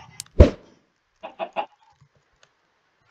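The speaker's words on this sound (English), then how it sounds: "Oh, that chicken laid an egg, right." A chicken in the video game Minecraft clucks: one loud cluck, then a quick run of three softer clucks and a few faint clicks, clear and close against silence.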